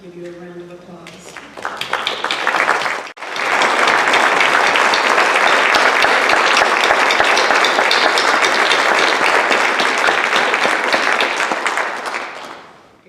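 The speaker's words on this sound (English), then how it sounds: "they're probably going to want to give you a round of applause" A school audience at a middle school honor society induction bursts into loud sustained applause that lasts about ten seconds and then fades, following a brief moment of speech at the start.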